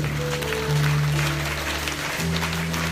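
A church congregation applauding for Jesus during a French-language service, dense clapping under a sustained organ or keyboard chord that holds throughout.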